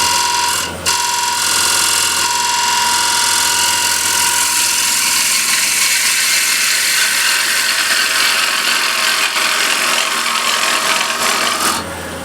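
A skew chisel cuts steps into a walnut or cherry wood plate on a lathe, a loud, continuous scraping and ratcheting chatter that runs nearly unbroken throughout.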